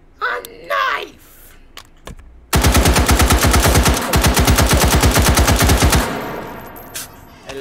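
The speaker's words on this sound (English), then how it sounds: "I love gun games. But enough shooting targets." Rapid automatic gunfire in a VR shooter game, a fast steady string of loud shots lasting several seconds after a few brief short sounds, close and dominant.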